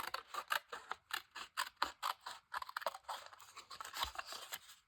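Scissors trimming paper for a junk journal, a quick run of crisp snips and rustling paper crunches coming in irregular bursts, close and fairly quiet with no voices.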